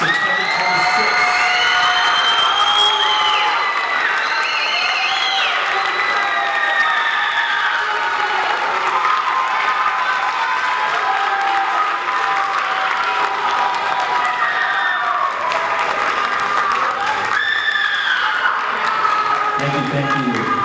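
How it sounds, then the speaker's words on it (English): An audience at a jazz band concert claps and cheers loudly for about twenty seconds without a break, with whoops and shouted voices mixed into the dense applause. "round of applause for the Jazz Band Seniors Class of 2026"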